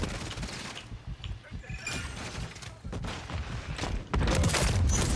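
Bursts of gunfire in a Call of Duty match, dense and continuous, growing louder toward the end and heard without talk.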